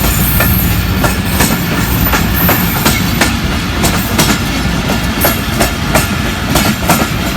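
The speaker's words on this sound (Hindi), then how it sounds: "इधर साइड में जो ट्रेन आ रहा है, ट्रेन इधर से भी आ रहा है।" A train passing close by at Tando Adam, loud steady rumble with rhythmic clickety-clack of wheels over rail joints throughout.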